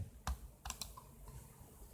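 Computer keyboard typing, a few quick sparse keystrokes in a short burst, faint and close in a quiet room.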